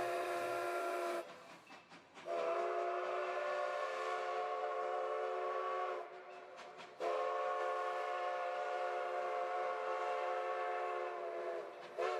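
A steam train whistle blows in long, sustained harmonic blasts, broken by two short pauses, with the rumble of the railway underneath; a narrow-gauge mining-town railroad.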